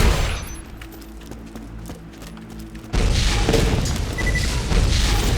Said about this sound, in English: after you blast Boombringer, don't look at the explosion